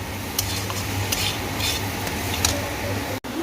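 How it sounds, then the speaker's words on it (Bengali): Vegetables for khichdi fry and get stirred in a wok, a steady sizzle with scraping stir strokes and light utensil clatter, continuous at moderate level with a brief dropout near the end. "এর সবজিগুলো আমি এখানে কড়াইতে ফ্রাই করছি"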